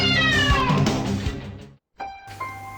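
A cat meows loudly and close by, one long drawn-out call followed after a brief pause by a shorter, more nasal meow.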